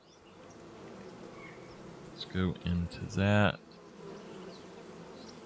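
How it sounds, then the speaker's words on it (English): Insect buzzing from bees in the farming game Farming Simulator 25, a steady low drone with louder bursts near the middle, while a voice speaks briefly over it. "I'm going to go ahead and remove those bees now."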